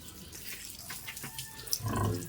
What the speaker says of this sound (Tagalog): Mahina ang aming tubig pero okay lang